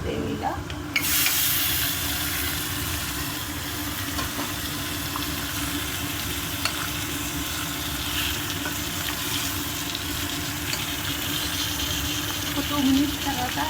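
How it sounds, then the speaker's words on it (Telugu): Mutton stirred into a frying onion, cashew and tomato gravy gives a steady, close sizzle with occasional scraping, continuous throughout, with a voice speaking over it. "మటన్ అంతా వేసేసుకుంటున్నామండి ఈ ఆనియన్ గ్రేవీలో."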